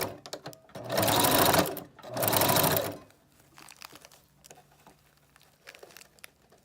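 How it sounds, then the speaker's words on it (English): A sewing machine stitches a flat wig weft onto a glueless frontal wig, running in two loud, steady bursts of stitching with a short pause between, then falling quiet with faint handling noise. "And begin to sew."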